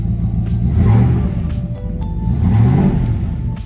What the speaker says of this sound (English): Good exhaust note,